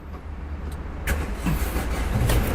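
A Toyota Alphard diesel engine cranks and catches after a quiet interior moment, then settles into a smooth, steady low running sound, close and moderate in level.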